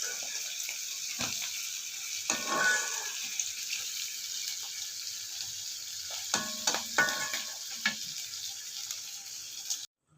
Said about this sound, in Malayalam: ഇത് നന്നായിട്ട് വറുത്തെടുക്കാം